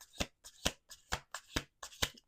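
A deck of tarot cards is riffled and shuffled in quick bursts, about nine crisp flurries in steady rhythm, close and clear with no talking.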